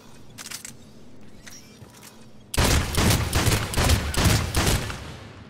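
Gunfire with heavy recoil from a weapon in the video game Mass Effect 3, starting after a quiet stretch with a burst of loud, closely spaced booming shots that fill the rest of the moment.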